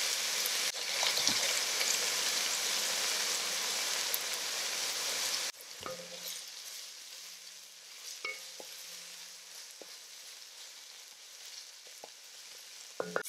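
Trinidad corn soup cooking in a pot: a loud, continuous sizzle and bubbling for the first few seconds, then a quieter simmer with scattered scrapes and knocks of stirring.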